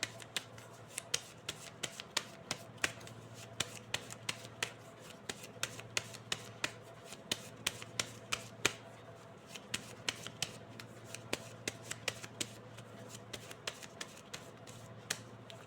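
Playing cards riffled and handled close up, crisp rapid flicks and slaps repeating throughout in a quiet room.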